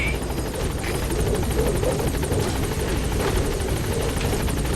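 Helicopter in the video game Metal Gear Solid 5, a steady close rotor thump with a whining engine buzz, loud and continuous without pause.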